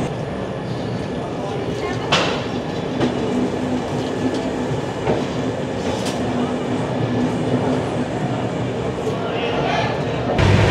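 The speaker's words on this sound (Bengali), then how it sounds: "কাশগঞ্জ জাংশন থেকে ট্রেন ছাড়লো কিন্তু প্রায় 15 মিনিট পরে" A passenger train pulls out of Kasganj Junction, heard from inside a coach as a steady loud rumble with occasional sharp clanks and wheel clicks throughout.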